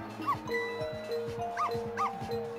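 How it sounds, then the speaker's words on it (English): A dog barks in the Ghost Trick: Phantom Detective video game, with several short barks and yips spread across the clip over a steady tonal game music bed. "Do all the barking."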